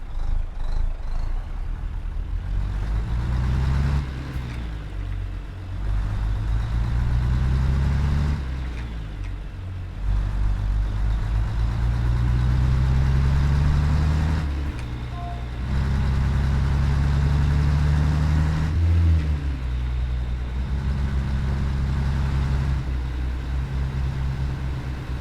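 A Mack Cruiseliner truck hauling a B-double grain hopper in American Truck Simulator releases its brakes and pulls away, its loud diesel engine revving up through several gears with short pauses between shifts, close and without talk.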